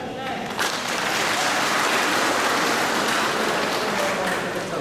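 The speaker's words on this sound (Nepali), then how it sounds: "एकपल्ट ताली बजाउनुहोस् त" Crowd applause at a transport workers' union relief distribution and blood donation event, a dense sustained clapping that starts abruptly and holds steady and loud for several seconds.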